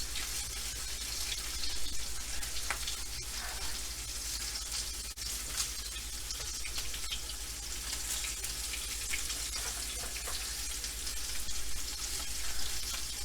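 Butter sizzling on a browned tomahawk beef ribeye steak in a hot pan, a continuous hissing, crackling fry with a low steady hum underneath, moderately quiet and with no talking.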